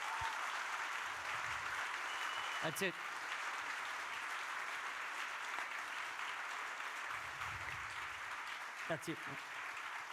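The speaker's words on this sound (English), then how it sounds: "Let's give him a round of applause." An audience at a live talk event applauds in a sustained wash of clapping that holds for about ten seconds, with a speaker's voice briefly heard over it.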